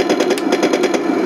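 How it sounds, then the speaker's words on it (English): The M41A3 RC tank plays a machine-gun sound effect, a loud, rapid, even rattle of about a dozen bursts in just over a second. "if I fire the machine gun, sounds more like a Hollywood movie"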